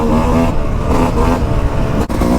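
A Yamaha YZ250 two-stroke dirt bike engine runs loud and close on a trail ride, its buzzy note surging and easing in short revs with one brief dip.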